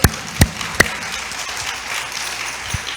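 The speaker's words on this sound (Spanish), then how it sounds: "denle un aplauso al Señor" Applause for the Lord rises during a church sermon. A few sharp, loud knocks or claps stand out at the start over a lighter, ragged spatter of clapping that continues underneath.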